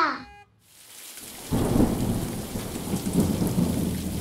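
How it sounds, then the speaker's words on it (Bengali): Steady rain pours down with a deep, rolling rumble of thunder building beneath it after a brief quiet start. "রিমঝিম বর্ষণ রোমাঞ্চিত রাত। মাঝে মাঝে বিদ্যুৎ চমকে জানলার কাঁচ উদ্ভাসিত করে তুলছে।"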